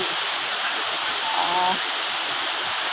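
Steady broadband rush of Kor Luang waterfall in Mae Ping National Park, Thailand, fills the scene, constant and enveloping, with a faint brief tone near the middle.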